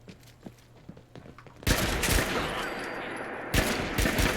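Enemy gunfire in Fallout 4 comes as two sudden loud bursts of rapid shots after a quiet stretch of faint footsteps and clicks, the second volley starting just before the end.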